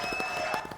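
Audience applause for the singer, a dense wash of many hands clapping at close range, steady and fairly loud through the short burst.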